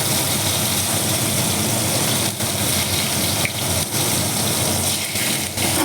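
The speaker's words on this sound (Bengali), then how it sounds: "তো কেটে রাখা আলুগুলো আমি এবার দিয়ে দিচ্ছি তেলের মধ্যে।" Cut potatoes fry in hot oil, a loud, steady, close sizzle with a constant crackling hiss and faint occasional clicks.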